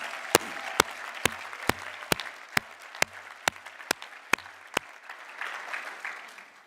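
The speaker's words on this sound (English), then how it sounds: "they deserve a big round of applause." Applause at a university School of Nursing commencement: sharp, evenly spaced claps ring out, then a softer, spread-out crowd applause takes over in a large hall.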